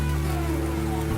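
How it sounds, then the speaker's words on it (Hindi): Heavy rain pours in a Hindi cartoon story, a dense, continuous hiss of falling water that stays loud and unbroken throughout, with a low rumbling layer beneath it. "सुनैना, तुम इतनी तेज बारिश में यहाँ घर के बाहर क्यों खड़ी हो?"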